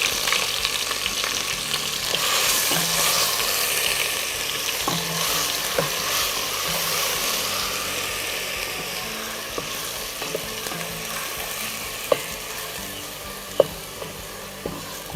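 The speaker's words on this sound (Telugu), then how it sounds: "వేగుతుండగా ఉల్లిపాయలు నూనె ముద్ద, ఉల్లి పేస్ట్ వేసి" Onion paste fries in oil with a continuous loud sizzle up close. A few light scrapes and taps of stirring land near the end, and no one speaks.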